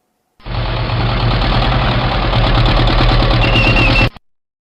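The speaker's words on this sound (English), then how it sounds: "tank," A tank engine rumbles steadily and loudly for about four seconds, with a deep low drone and a rough clattering texture, starting and stopping abruptly with no talking.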